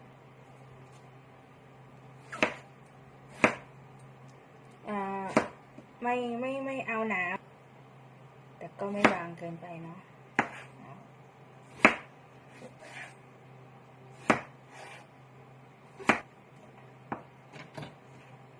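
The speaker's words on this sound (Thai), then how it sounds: "หั่นมะเขือม่วงก่อนนะ" Sharp knife chops slice eggplant on a cutting board in an irregular series, close and crisp, with a person talking briefly between cuts over a low background hum.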